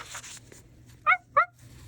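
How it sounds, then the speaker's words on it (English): Two short, distinct barks from a dog sound out over a quiet background, spaced about a quarter second apart. "A faint bark came from the distance."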